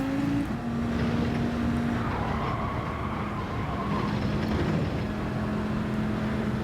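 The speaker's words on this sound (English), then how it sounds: "This car turns well on tight turns." Gr.3 race car being driven in Gran Turismo 7, a steady, loud engine drone holding through the whole stretch, with a rising pitch sweep partway and constant road and exhaust roar.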